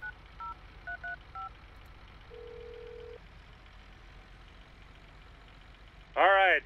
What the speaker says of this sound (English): Let me give him a call on the phone real quick.